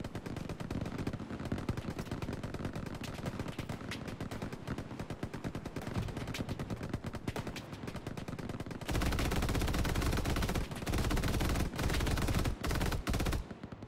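Machine gun fire in the Hell Let Loose video game, rapid sustained bursts that grow louder and heavier toward the end, with no talk over it.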